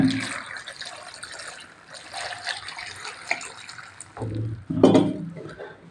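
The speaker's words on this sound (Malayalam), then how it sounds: "ഇത് വെള്ളം ഒഴിക്കാണ്." Water splashes and trickles into a pressure cooker in uneven bursts, with a louder gush near the end; faint background noise and voices murmur throughout.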